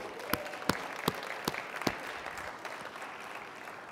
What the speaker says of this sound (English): And I think we should give Lou a super cheer